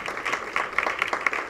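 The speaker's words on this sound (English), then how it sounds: "A big round of applause to them." Audience applause at a dance research congress event in Dadar, Mumbai, greeting the chief sponsor: a steady wash of many hands clapping at moderate volume, with no voices over it.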